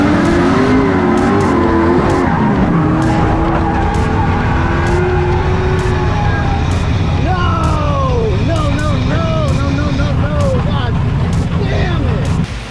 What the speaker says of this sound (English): Yeah, that was a gnarly wreck